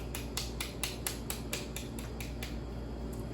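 Pomegranate halves are struck again and again to knock out the seeds during a live raw vegan cooking lecture, giving a steady run of sharp taps about four a second over a low room hum.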